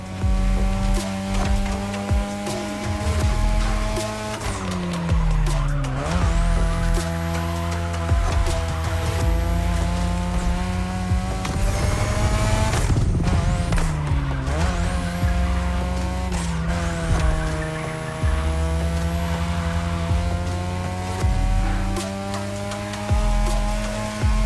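Cars racing in The Crew Motorfest, with loud engines revving and shifting through the gears, plus repeated screeching tire squeals through the corners, all held close and continuous with no talking.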